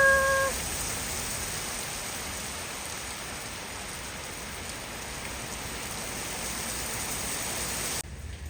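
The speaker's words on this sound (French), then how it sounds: "Il pleut, il pleut." Rain falling steadily outdoors in a continuous even hiss of drops, with a brief faint tone at the very start and a sudden cut near the end.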